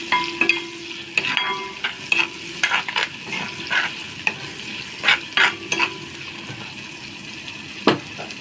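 Ground masala of chili, garlic and cumin sizzles and fries in a pan while a spoon stirs and scrapes it in repeated taps over a steady crackling hiss.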